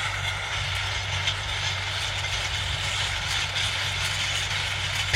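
A John Deere tractor engine runs with a steady, loud, low droning rumble, continuous and unchanging, close by in a field used for sowing cover crops.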